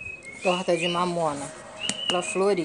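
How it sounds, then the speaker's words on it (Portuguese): A pet bird sings in a run of bright whistled chirps and warbling phrases, close by, while someone talks over parts of the song. "Olha o passarinho cantando"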